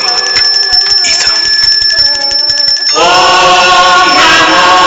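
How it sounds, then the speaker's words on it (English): Temple bells rung by a priest during a Khajuraho sound and light show: bright, sustained metallic ringing with layered overtones, swelling into a denser, louder peal partway through over a steady background. "the priest rang bells to recall ether."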